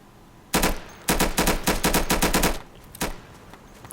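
BAR machine gun bursts in the game Insurgency: a single loud shot, then a rapid string of close, sharp rounds, followed by one more isolated shot.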